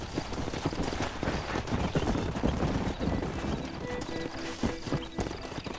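Horse hooves clip-clop steadily in Red Dead Redemption, a continuous rhythmic trot close by over dense game ambience, with a brief whinny-like sound mixed in.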